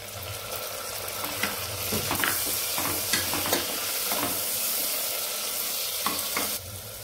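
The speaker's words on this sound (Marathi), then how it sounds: "त्यामध्ये आपण टोमॅटो घालायचे 1 बाउल।" Tomatoes hit browned onion in a hot pan for veg pulao, hissing in a loud, constant sizzle while a spoon stirs through with repeated soft scraping strokes close by.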